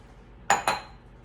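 A medium mixing bowl clinks twice in quick succession as dry ingredients like flour go in for banana bread. The close, bright taps sound over a quiet kitchen background with no talking.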